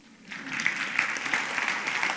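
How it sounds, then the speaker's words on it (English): An audience at a medical lecture on low-carb eating in type 1 diabetes breaks into applause, rising quickly and continuing as a soft, steady patter of clapping. "So she deserves the applause"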